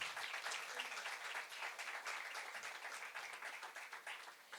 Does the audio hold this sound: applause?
yes